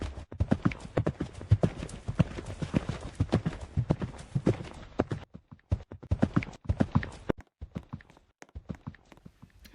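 A mare's hooves clip-clop steadily on a hard surface as she is led from her stall on a show day, near and fairly loud; the footfalls grow sparser and more irregular toward the end, with no talk.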